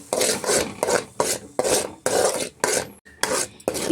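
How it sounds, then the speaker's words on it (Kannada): Ground spinach paste is stirred in a pan, giving repeated wet rasping scrapes in short bursts roughly every half second, close and fairly loud with no voices. "ನೆಕ್ಸ್ಟ್ ಗ್ರೈಂಡ್ ಮಾಡಿ ಇಟ್ಕೊಂಡಿದ್ದಂಥ ಪಾಲಕ್ ಸೊಪ್ಪನ್ನ ನಾನು ಸೇರಿಸ್ಕೊಳ್ತಾ ಇದ್ದೀನಿ. ಸೇರಿಸ್ಕೊಂಡು ಒಮ್ಮೆ ಚೆನ್ನಾಗಿ ಮಿಕ್ಸ್ ಮಾಡ್ಕೊಳ್ತಾ ಇದ್ದೀನಿ."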